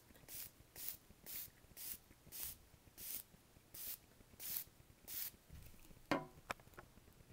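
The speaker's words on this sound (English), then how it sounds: "I'm just going to go ahead and spray a really nice" A spray bottle mists paper for a stamping craft in nine even, quick hisses at a steady rhythm, close and clear, followed by a few light taps and rustles.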